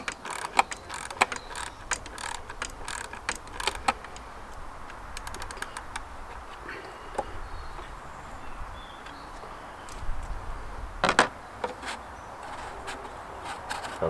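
A 5mm Allen bit on a ratchet loosening the fuel filter bracket bolt on a Mercedes W203 C220 CDI: repeated close, sharp ratcheting clicks in bursts, with pauses and metallic handling noises between them.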